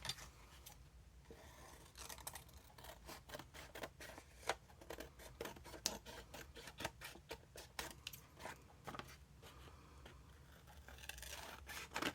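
Scissors snip through paper and envelope material for an art journal, a steady run of quick, crisp cuts close by with no talking.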